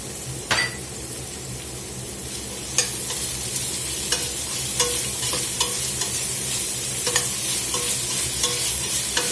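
Sliced onion and red bell pepper with salt and pepper frying in olive oil in a pan, a steady close sizzle broken by occasional spoon scrapes and clinks against the pan.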